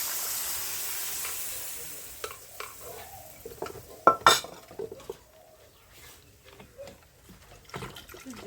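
Boiled dal and potato stirred and sautéed in a pan over a wood fire, with irregular scraping and clinking spoon strokes over a soft background sizzle that fades after the first couple of seconds.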